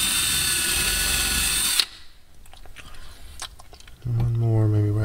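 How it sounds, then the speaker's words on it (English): A power drill whines loudly as it bores holes into kitchen cabinets, then falls quiet amid faint clicks and handling noise before a second drilling burst starts up. "drill a couple holes."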